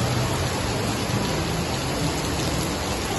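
Heavy rain pours in a dense, steady hiss that stays loud and unbroken throughout, with no voices.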